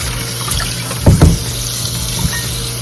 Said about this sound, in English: Put my cold water on it again and just rinse this all out.